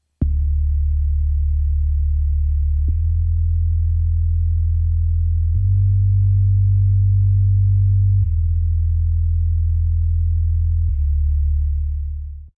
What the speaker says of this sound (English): definitely adding a bit more distortion to that bass there